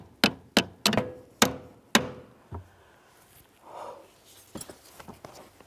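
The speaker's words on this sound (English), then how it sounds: "Sometimes a couple light bonks will help this." Light hammer taps on the intermediate steering shaft of a 2006-2012 Toyota RAV4: five sharp, ringing metallic bonks in a fairly even rhythm, then softer knocks and shuffling of parts nearby.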